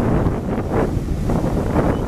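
Strong wind buffets the microphone at Praia Tonel beach in Sagres, Algarve, a steady loud roar with gusts, and a calm August sea faintly underneath.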